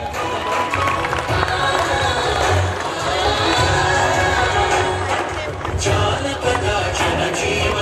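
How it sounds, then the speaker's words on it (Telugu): A loud, dense crowd at a district sports event cheers and claps steadily right after the ceremonial torch is lit, with shouting and children's voices rising throughout. "టార్చ్ వెలిగించింది కాబట్టి అందరు గట్టిగా క్లాప్స్"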